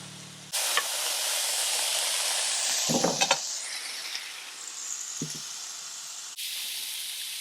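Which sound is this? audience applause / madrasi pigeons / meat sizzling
meat sizzling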